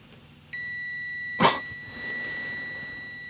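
A multimeter gives a steady electronic continuity tone while probing a circuit in a Ford car; a thin high beep starts about half a second in and holds, briefly masked by a sharp knock or clatter, no talking.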